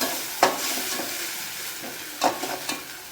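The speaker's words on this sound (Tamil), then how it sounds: "வெங்காயம் வதக்கிடுச்சு நான் தக்காளியை நல்லா அரைச்சி ஊற்றிருக்கேன்" Onion and ground tomato sauté in a hot pan, a steady sizzle broken by a few scraping stir strokes near the start and again toward the end, close and moderately loud with no talking.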